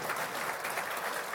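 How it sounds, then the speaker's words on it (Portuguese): An audience at an official government announcement ceremony on corn gives a brief burst of applause, a dense steady patter of many hands lasting only a moment. "eu vou pedir até um aplauso para o ministro da Agricultura e para o presidente da Conab"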